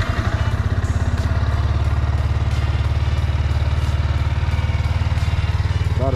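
A 2022 Yamaha YZF-R125 motorcycle idles steadily nearby, its small single-cylinder engine producing a continuous, even low-pitched putter with a light mechanical clatter throughout, with no voices over it.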